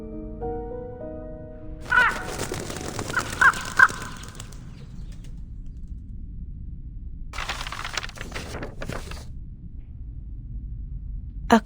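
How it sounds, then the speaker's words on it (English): A crow caws in the video game Reverse: 1999, in loud harsh bursts: one cluster of calls early on and another a few seconds later, with quiet gaps between. "A crow?"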